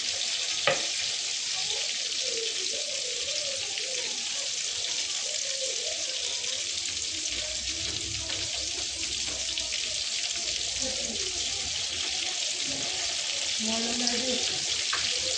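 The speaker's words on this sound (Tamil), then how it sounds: "மீன் குழம்பு நல்லா கொதி வந்து நல்லா இருக்குது" Fish curry bubbling as it boils in a pot, a steady soft sizzle and simmer that runs throughout at low level, with faint kitchen clatter mixed in.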